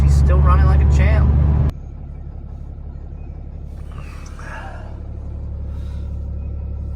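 A Dodge car with 448,000 miles hums along at a steady, low cabin rumble, heard from inside, with a person talking briefly at the start before the engine drone continues alone.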